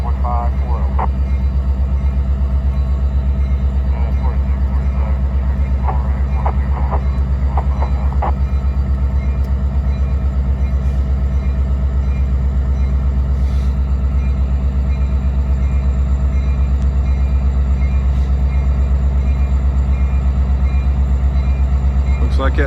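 A freight train rolls past with a distributed power locomotive, producing a loud, steady low rumble and rail noise that continues unbroken for the whole stretch, with a few faint higher clanks early on.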